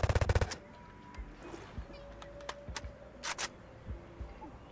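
A rapid burst of video game gunfire opens, followed by scattered single shots and sharp impacts against a quiet backdrop.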